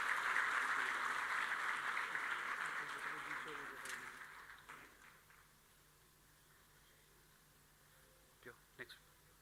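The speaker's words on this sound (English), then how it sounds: "A big round of applause, please." An audience at an APCON 2025 award ceremony applauds, loud at first and then fading out over about five seconds, followed by quiet room noise with a few sharp taps near the end.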